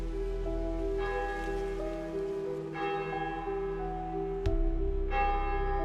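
Church bells ring out 6 o'clock, with steady sustained tones and fresh strikes roughly every couple of seconds, resonant and moderately distant, with no voices.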